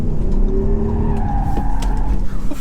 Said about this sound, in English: You get lift-off oversteer in Audi SQ7.